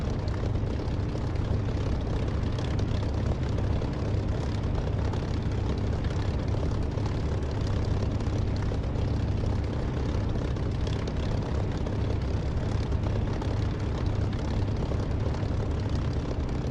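Aircraft engine in a flight simulator game, a constant loud propeller drone and heavy low rumble held steadily at takeoff power without letup.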